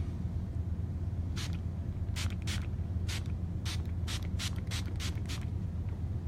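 Roughly ten short hissing bursts from a spray bottle misting hair during a haircut, irregular in rhythm, close by, over a steady low background hum.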